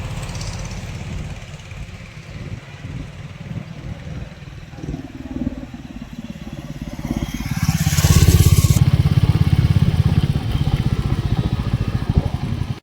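Royal Enfield Meteor 350 motorcycle idling with a low thumping beat, then revving louder around the middle and pulling away with a strong close engine drone; no one speaks.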